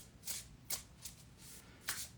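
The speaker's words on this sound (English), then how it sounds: "these cards don't want to shuffle for me this morning" Tarot deck shuffled by hand, four quick papery riffling bursts with short pauses between, close but quiet, with no talking.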